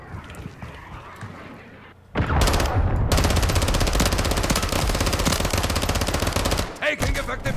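Sustained automatic machine gun fire in Call of Duty Modern Warfare 3 team deathmatch on Derail, a loud, rapid, continuous burst lasting several seconds after a quieter lead-in.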